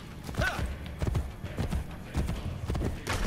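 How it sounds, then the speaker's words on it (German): Horse hooves clip-clopping at a steady riding pace in the video game Assassin's Creed Brotherhood, a loud rhythmic run of repeated hoofbeats close up, with occasional faint snorts. "Stimmt alles soweit, also reiten wir zu unserem Ziel."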